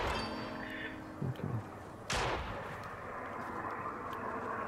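Gunfire rings out in Fortnite, a few sharp shots with one loud burst standing out against a steady game-ambience bed, while a voice speaks briefly.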